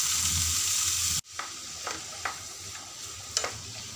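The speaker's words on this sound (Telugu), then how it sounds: "ఇప్పుడు మనము చెక్కు తీసి కడిగి కట్ చేసుకున్న క్యారెట్ ముక్కలు" Cut carrot pieces drop into a pan of hot oil tempering, with a steady sizzle that briefly cuts out, then resumes as a softer fry broken by a few spoon scrapes and taps, heard close with no talking.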